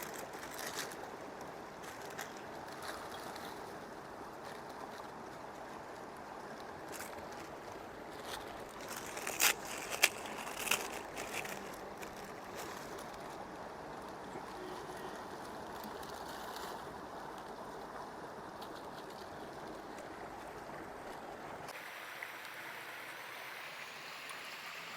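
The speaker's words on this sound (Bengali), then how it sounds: "জল কিন্তু ফুটতে আরম্ভ করেছে" Water rolling to a boil in a pot over a camp stove in an Uttarakhand jungle, with Maggi noodles about to go in: a steady broadband bubbling hiss with a few brief louder clatters mid-way, then quieter near the end.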